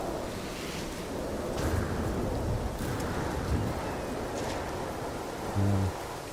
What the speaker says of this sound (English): This storm won't last forever.